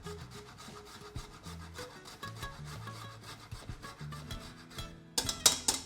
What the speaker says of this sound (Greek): Τρίβω μέσα μοσχοκάριδο.